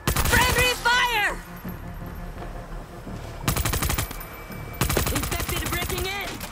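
Bursts of rapid automatic gunfire ring out in the zombie shooter video game World War Z, loud and close, coming in several volleys between shouted voices and game noise.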